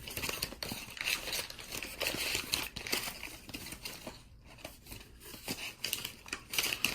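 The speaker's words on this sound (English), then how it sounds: "making all this noise with this paper" Paper crinkles and crumples continuously up close, a busy rustling that keeps going with brief pauses before picking up again.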